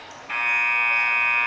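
Loud, steady electronic buzzer sounding at the end of a quarter in a high school boys basketball game in a gym, starting abruptly after a short quiet moment and holding unbroken to the end.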